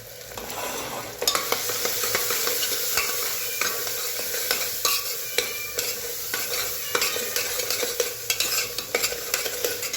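Spices, turmeric, salt and chopped coriander fry for a spicy mutton curry, a loud sizzle broken by repeated scraping and knocking of a spoon stirring in the pan.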